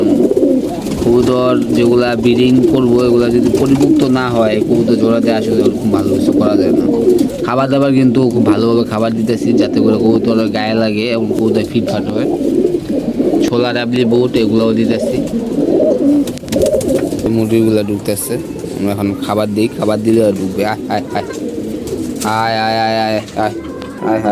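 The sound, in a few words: pigeons cooing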